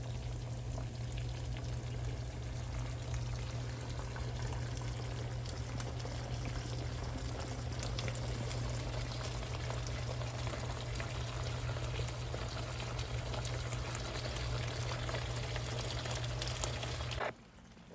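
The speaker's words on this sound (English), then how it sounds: "I added like small slices of butter to it as well, and I'm gonna let that simmer down." Butter sauce with small slices of butter simmering in a pan on a home stove, a steady close bubbling and sizzling hiss with a constant low hum, unbroken for most of the span and then cutting off abruptly near the end.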